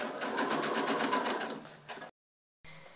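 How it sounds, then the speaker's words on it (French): A sewing machine runs a fast, even stitching rhythm along a seam of a denim apron made from old jeans, close up, then stops abruptly into silence before a faint restart. "je finis ma couture avec mon point d'arrêt"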